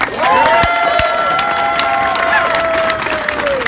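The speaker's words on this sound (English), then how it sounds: "Can we get one more round of applause for Black Love and Black Joy, please?" Crowd applause and cheering at an outdoor rally against police violence, loud sustained clapping with whoops and shouted voices rising over it, a few sharp claps standing out near the front.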